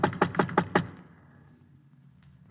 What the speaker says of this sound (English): I went up and knocked on his door.